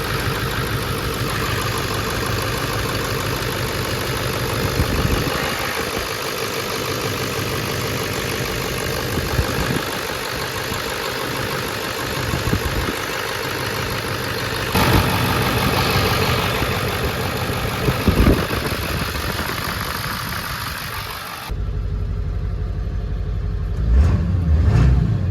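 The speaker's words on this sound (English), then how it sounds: "Start right up. Now I'm gonna stay here to see if there's any leaks." A 2000 Ford F350 with a 7.3 Power Stroke diesel idles steadily after starting, a loud, close, continuous rattling engine drone with a few brief bumps in level.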